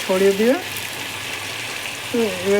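Cumin seeds fry lightly in a pan with chicken, giving a steady close sizzle, with two short voiced bursts of talk near the start and end.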